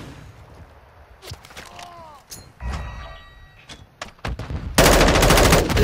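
M4 rifle gunfire in the Modern Warfare 2 video game, with scattered shots and clanks building into loud sustained rapid automatic fire at the end, close and dominant, with faint speech underneath.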